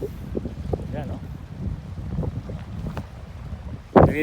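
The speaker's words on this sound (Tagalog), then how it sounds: "Narinig niyo yung hangin, malamig." Gusty wind rumbles and buffets the microphone near the water, with voices talking faintly underneath and a sharp blast near the end.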